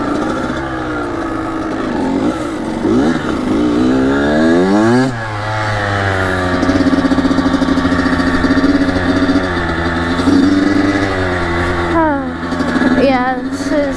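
A Kawasaki KX85 dirt bike rides mountain trails in New York, its two-stroke engine revving up and down through rising and falling whines, loud and close, with a brief drop in between.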